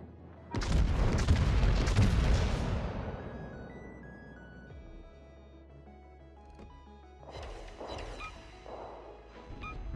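A World of Warships battleship fires semi-armor-piercing shells: one loud, deep boom with a crashing impact that fades slowly, followed by fainter distant rumbles and thuds.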